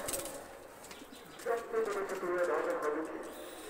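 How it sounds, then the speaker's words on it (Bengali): Oman Teddy baby pigeons coo softly in a short, low, rolling burst midway through, faint and close, over a quiet noisy background with a voice talking. "কবুতর দুটা ছেড়ে দেখাচ্ছি আমি,"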